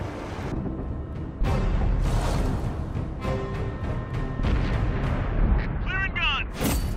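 Heavy artillery guns fire repeatedly in a video game battle, with deep booming blasts over rumbling combat noise as players call out to one another.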